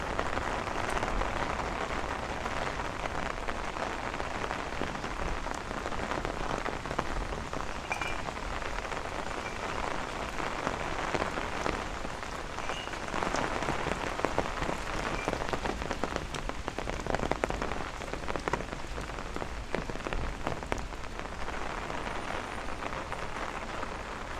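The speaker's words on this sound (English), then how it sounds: "Rain is starting to get heavy again." Heavy rain pours steadily on streets and surfaces during a thunderstorm walk through Bay Ridge and Dyker Heights in Brooklyn, a dense, constant hiss with scattered close droplet patter and no voices throughout.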